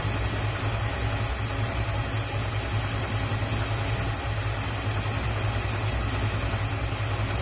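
A 1957 Chevy Nomad, abandoned for 28 years and newly revived, idles with its radiator cap off, giving a steady, loud, close rumble that holds even throughout with no voices.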